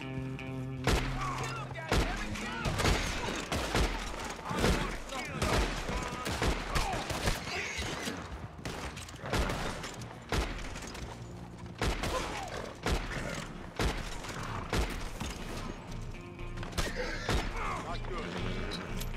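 Gunfire in Red Dead Redemption 2 Online during a bounty hunt, with rapid repeated shots and bursts throughout and a player talking over the action.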